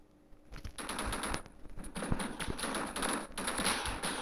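Pistol gunfire in the Roblox first-person shooter Energy Assault, rapid repeated shots crackling steadily through the clip at close range, loud and dense with no talking over it.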